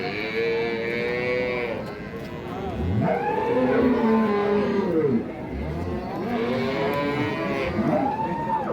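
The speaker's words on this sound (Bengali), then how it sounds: "শাহিওয়াল সিন্ধি গরু।" Sahiwal Sindhi cows at a cattle market low repeatedly, several long moos rising and falling close by over steady crowd noise and background talk.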